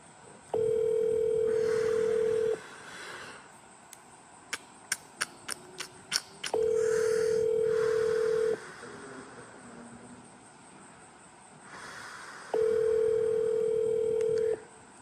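A telephone call rings out with a steady electronic tone repeating three times, each about two seconds long, separated by quiet gaps with a few sharp clicks.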